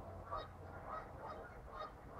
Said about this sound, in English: Shut up, birds.